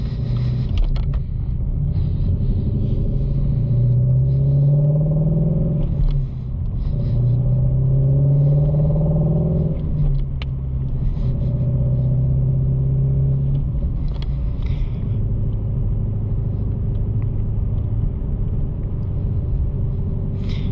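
Shelby Mustang GT350 engine droning loudly and steadily from inside the car on a canyon road, with a deep rumble that rises and falls through several climbs in revs.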